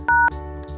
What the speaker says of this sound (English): Open the phone app on your phone and dial